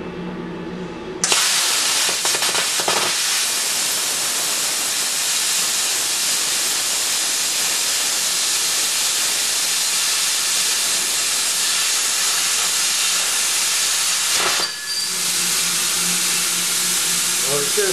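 A plasma cutter slicing metal gives a loud, continuous rushing hiss that starts abruptly and holds steady for most of the stretch, with a brief dip near the end.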